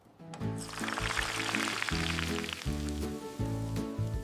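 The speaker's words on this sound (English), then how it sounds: "Today, we're frying fish without any mess." Fish frying in a pan with a little oil makes a continuous crackling sizzle, heard over loud, steady music.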